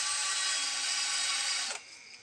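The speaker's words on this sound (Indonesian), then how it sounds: "Kuncinya biar awet, asnya itu harus diamplas dengan amplas yang halus, yang ukuran 800 ataupun 1200" Fine 800 to 1200 grit sandpaper rubs against the metal shaft of a slow, humming electric fan in one continuous close, hissing scrape that stops abruptly near the end.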